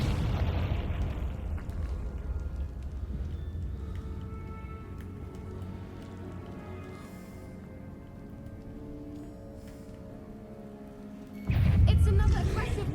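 Loud burst of explosions from Confringo spells cast in the video game Hogwarts Legacy, with a heavy boom near the end; a voice talks over the busy combat noise.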